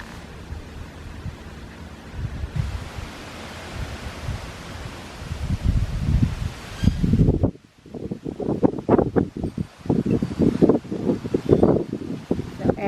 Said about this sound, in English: the wind is up a little bit, but it's not a real problem